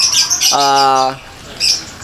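A local zebra dove (perkutut) gives a single sustained, evenly pitched coo lasting under a second, close and clear over a faint hiss.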